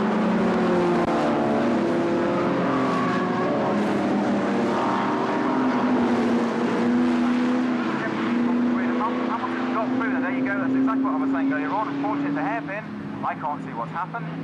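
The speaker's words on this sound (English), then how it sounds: "Second lap, already Malcolm Hamilton having a go at Gerry Marshall." Vintage race cars lapping a circuit in a British motor race, their engines droning loudly and steadily with a rising and falling pitch as they pass, while a commentator talks over the noise throughout.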